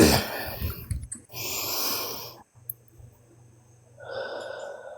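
Deep breathing during a live emotion-healing session: a long, airy inhale, then a pause and a softer exhale, close-up and breathy against a faint steady hum.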